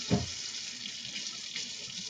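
Hot water runs from a tap to fill a bowl for washing wool, a steady hiss of flowing water with a brief louder splash at the start.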